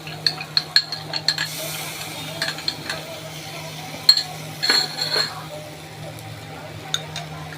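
Vegetables fry in a pan with lentil dumplings while a utensil stirs them, producing a soft sizzle under sharp metallic clinks and scrapes, several quick taps early on and a few more later.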